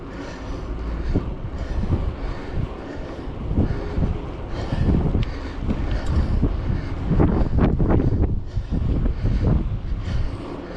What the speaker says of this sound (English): I had the wind in my back. Because now it's pushing me from the left.